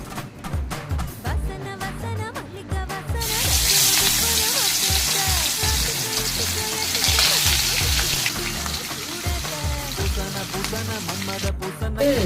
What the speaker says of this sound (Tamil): இப்போ நம்ம வறுத்துக்கலாம்.